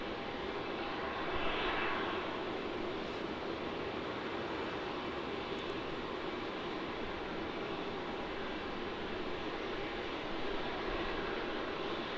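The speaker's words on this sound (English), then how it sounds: "coming in on runway 16 now, we have the Virgin Australia flight from Perth" A Virgin Australia jet from Perth landing on runway 16 at Melbourne Airport, a loud continuous broadband engine roar that holds steady throughout with no speech.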